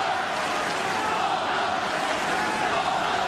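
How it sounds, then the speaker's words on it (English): A tennis crowd at the Australian Open chants during a quarterfinal, a continuous, even roar of many voices with no clear breaks, heard close and filling the whole moment. "I don't think this crowd chant's going to make him too happy either."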